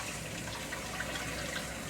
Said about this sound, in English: I'll just run water over the top of it,